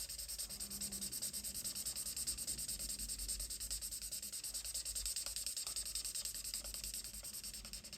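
A colour lifter rubs over the coloured area of a stamped vintage floral card, giving a steady, close, soft scratchy rubbing that continues without pause.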